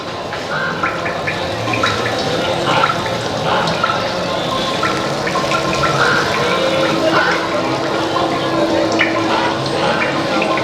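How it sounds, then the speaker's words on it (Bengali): Water falling from a decorative conch shell at a Kolkata Durga Puja pandal, a continuous splashing and trickling stream with gurgling drips, steady and fairly close under a faint crowd murmur. "সেই কষাকুষির মাধ্যমে জল পড়ছে দেখো"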